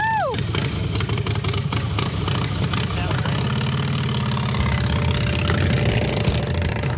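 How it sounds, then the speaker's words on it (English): A handmade Softail-style motorcycle engine rumbles steadily at idle throughout, loud and close, with a brief rising whine at the start and a slight swell near the end. "you never look cool as Joe riding a motorcycle"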